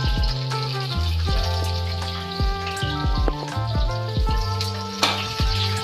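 Pieces of onion and green chilli frying in oil in a pan while Yippee noodles are made, with a steady sizzle and crackle up close.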